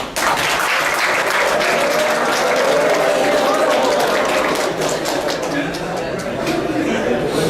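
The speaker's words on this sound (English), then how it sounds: "Give a big clap for madam." Applause from a corporate audience at a pyramid meditation session fills the room, continuous and even throughout, with many hands clapping close together and no break.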